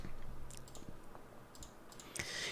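Quick bursts of key clicks from typing on a computer keyboard, close and crisp, in short irregular runs with small pauses between them.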